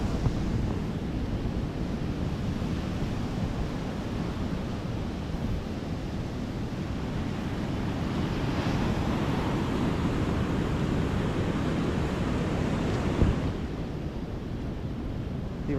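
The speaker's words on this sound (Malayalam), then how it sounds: "ഇവിടെ കടൽ കണ്ടോ" Monsoon-season sea surf rolls onto the shore in a steady, dense roar with wind buffeting the microphone, broad and continuous with no voices present.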